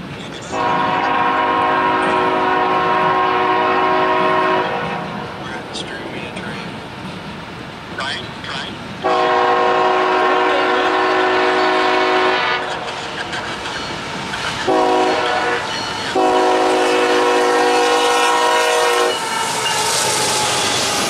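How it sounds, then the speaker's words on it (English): A loud freight train horn sounds close by in a long, long, short, long pattern over the rumble and clatter of a passing train led by SD45T locomotives on the Greenwich Subdivision. "there is another train coming"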